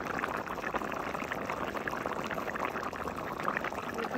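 Water poured into a pan of spiced fish curry gravy, a steady, even rush of liquid at close range that runs alone for a few seconds.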